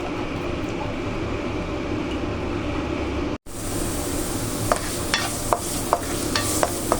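Onions sautéing in a pan for minced pork omelette, a steady dense sizzle broken by a brief cut, then resuming with intermittent crisp spatula taps against the pan.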